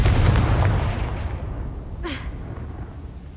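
A Confringo fire spell goes off in Hogwarts Legacy: a loud, roaring blast opens the moment, its rumble fading over a few seconds, with a sharper crack bursting out near the middle.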